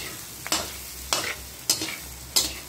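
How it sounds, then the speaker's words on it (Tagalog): Onions sauté in a hot pan for a milkfish tawsi dish, with a soft steady sizzle broken by four sharp scraping stirs at regular intervals, close and without talk. "So, ginisa muna natin ito sibuyas."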